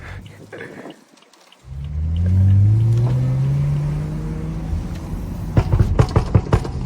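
A tuned Stage 2+ BMW engine revs up with a deep, rising intake roar close by, holding a throaty drone before settling into a rumbling idle.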